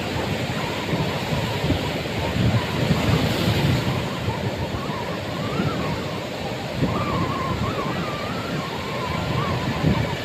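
Surf rolls and washes continuously at Digha beach with wind rushing over the microphone, a steady loud roar of breaking waves.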